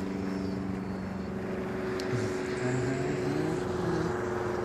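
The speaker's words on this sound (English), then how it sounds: "That's the airplane." A small plane flies inverted overhead, its steady propeller and engine drone holding at a constant level throughout with a slight rising tone near the end.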